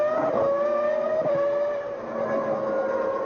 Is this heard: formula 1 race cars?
yes